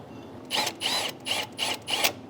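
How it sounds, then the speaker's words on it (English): A torque wrench tightens the 15mm alternator bracket bolts on a Silverado 5.3L L83 engine, giving five evenly spaced ratcheting bursts close up, with no talk. "we're going to torque these to 37 foot-pounds"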